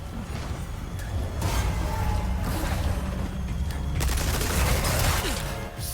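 Bursts of gunfire from the Resident Evil 4 remake video game, loud and continuous with heavy low booms and mechanical clatter, several shots blending into a dense fusillade under game noise.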